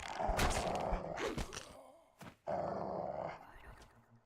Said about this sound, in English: We're going to summon a dog